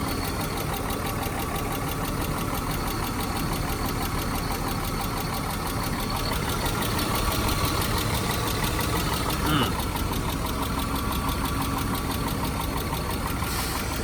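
A 2004 Acura RL engine idles steadily up close with a light, regular tick running through its hum, continuous for the whole stretch, with faint voices in the background.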